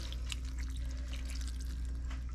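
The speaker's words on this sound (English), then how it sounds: "we are going to pour over our wine / chicken broth mixture" A wine and chicken broth mixture is poured evenly over chicken in a baking dish, a steady soft trickle with small splashes and drips under a constant low hum.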